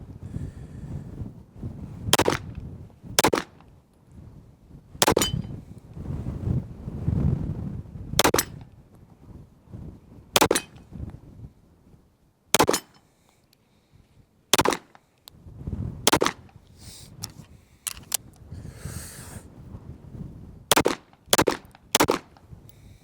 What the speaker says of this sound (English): I just wanted to really show you how much I really enjoyed this firearm and just shooting it.